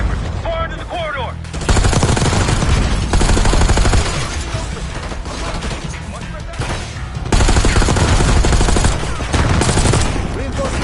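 Sustained machine gun fire in the Black Ops 6 video game, long loud continuous bursts broken by a few short pauses, with faint voices shouting over the shooting.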